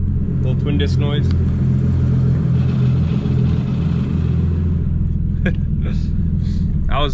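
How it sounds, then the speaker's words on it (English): Rattling, chattering twin-disc clutch in a Nissan R32 Skyline grinds under a constant low engine rumble while driving, loud and close inside the car, with a person speaking briefly over it. "Little twin disc noise."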